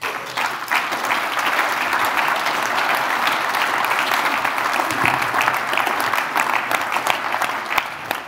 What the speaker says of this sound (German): Ich bitte Sie ganz herzlich, geben Sie Annette Wagner einen Applaus